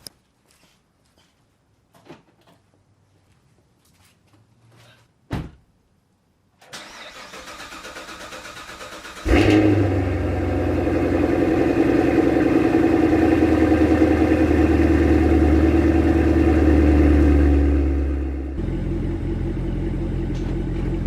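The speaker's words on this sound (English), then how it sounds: "You're going to get a CTSV cold start" A Cadillac CTS-V cold start: after quiet handling noises, the starter cranks and the engine fires with a loud burst around nine seconds, then settles into a steady, heavy rumbling high idle that drops slightly near the end.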